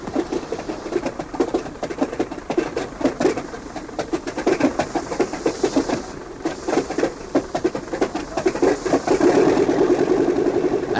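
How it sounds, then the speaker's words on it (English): The Wright brothers' small aircraft engine bursts into life and keeps running with a rapid, uneven chugging beat, fairly close and loud, growing steadier toward the end. "As its little engine bursts suddenly into life, the strange craft slowly begins to move down the track into the wind"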